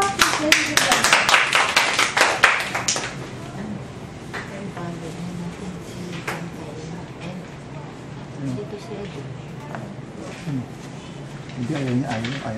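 A Toastmasters club meeting audience gives a loud burst of clapping for about three seconds, then it dies away and people talk over a quiet room.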